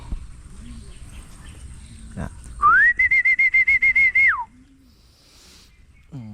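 A person whistles one long sustained note to call pigeons, with a fluttering, pulsing quality that lasts nearly two seconds, close and loud, among quieter background sounds.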